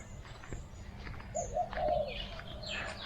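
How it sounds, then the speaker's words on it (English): Soft, low dove coos repeat a few times outdoors in a garden on a dewy morning, mixed with light chirping from other birds, including a rainbird, in the background. "The funny thing is, I can hear the doves"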